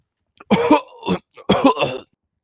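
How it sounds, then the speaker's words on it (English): Two harsh, throaty coughs in a GTA V roleplay game, close and loud, with a short gap between them and nothing else around. "Who is that coughing"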